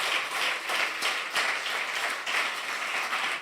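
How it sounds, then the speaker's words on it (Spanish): A church congregation claps loudly and steadily for several seconds, a dense continuous wash of applause with no talking. "Dele un fuerte aplauso al Señor."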